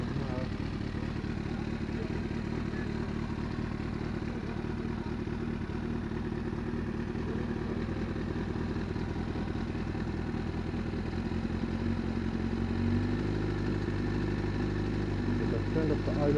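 A Yamaha YZF R6 motorcycle engine idles steadily and close, with an uneven, stuttering beat; partway through, the idle tone shifts slightly higher after an adjustment.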